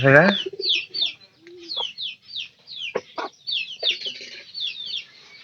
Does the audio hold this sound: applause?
no